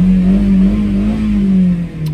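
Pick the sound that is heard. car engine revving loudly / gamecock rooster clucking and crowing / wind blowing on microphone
car engine revving loudly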